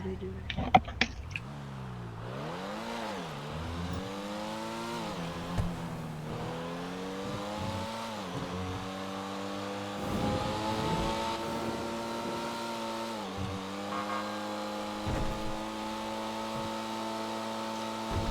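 Engine of a car driven in GTA 5 during a multi-car police chase roleplay, revving and shifting pitch as it accelerates and slows, steady and fairly loud throughout, with brief clatter at the start.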